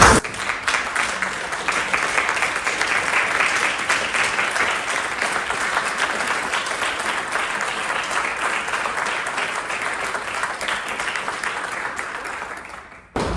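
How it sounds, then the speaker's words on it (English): A standing team gives a round of applause at the Spirit of the United Nations Awards ceremony, dense sustained clapping from a large audience that stays steady for about thirteen seconds before stopping abruptly. "I would like to ask or request all your team to stand up and give a round of applause."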